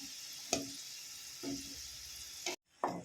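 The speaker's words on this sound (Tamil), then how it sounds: "இப்போ இந்த பாதுஷா வந்து வெந்து மேலே வரும் ஒன்று ஒன்றா" Badusha sweets fry in hot oil with a soft, continuous bubbling hiss, a few brief stirring swells and a momentary dropout near the end.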